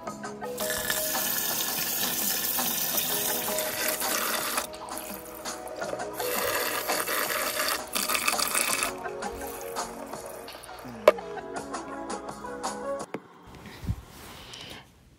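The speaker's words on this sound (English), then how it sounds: "So make sure to wash your rice." Rice being washed in a bowl under a running kitchen tap for Jamaican rice and peas, a steady loud rush of water with sloshing and swirling, a few clinks near the end as the flow stops.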